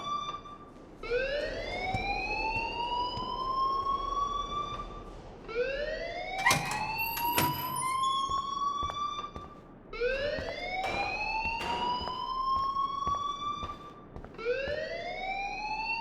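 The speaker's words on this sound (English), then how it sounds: "please turn off that alarm since that's your job" An alarm blares in the video game Life Is Strange, repeating as a rising, sweeping electronic wail in loud cycles of about four seconds, with a few sharp clanks and beeps layered over it.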